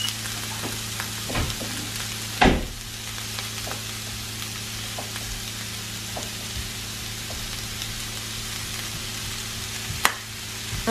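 Herbs such as rosemary, parsley and sage sizzle and fry steadily in a pan, with a few sharp scrapes and clinks of stirring, including a loud knock early on.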